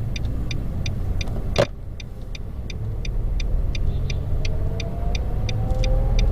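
An automatic car, shifted into first gear, idles with a steady low engine rumble that rises slightly in pitch late on, under a repeating high beeping chime and one sharp click near the start.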